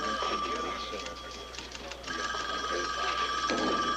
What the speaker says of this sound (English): Will somebody get that phone?